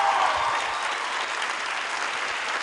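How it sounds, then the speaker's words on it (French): A crowd applauds at a concert showcase for a rock opera performance, steady thick clapping from a full room that stays even and fairly loud throughout, with no talking over it. "Vous pouvez les applaudir encore une fois."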